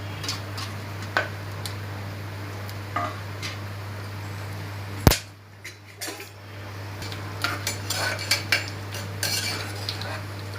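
Whole cinnamon and cardamom are stirred in a pan for kuska biryani. Light metallic scraping and clinking repeats throughout, with one sharp clank midway, over a steady low hum from the stove.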